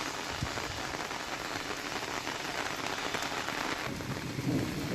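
Heavy rain falls steadily, a dense, even hiss that stays at a constant level throughout with no voices.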